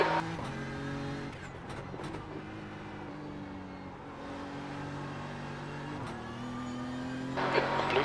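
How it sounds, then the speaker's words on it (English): Faster prototype race cars in an IMSA sim race at Watkins Glen drone past, engine tones sliding and shifting as they close in and overtake, with a steady mid-level roar throughout and a brighter burst of noise at the end. "There's a group of faster cars behind."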